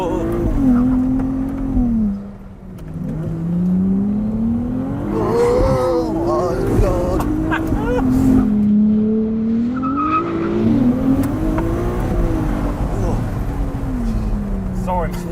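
A Ferrari 296 GTS convertible pulling hard from low revs, engine note rising and falling in repeated surges with some tire squeal, loud and close throughout.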